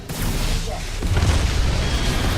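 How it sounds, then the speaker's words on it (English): A Titan unleashing its laser core in Titanfall 2: a sustained, loud roaring blast with heavy low rumble that swells after the first second and holds steady to the end. "Firing laser core."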